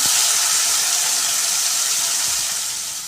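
Chopped tomatoes dropped into a hot pan of oil for Kathiyawadi sev tameta shaak, giving a loud, steady broadband sizzle that slowly fades as the pan settles.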